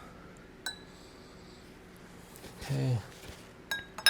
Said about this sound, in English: Let me give this a stir.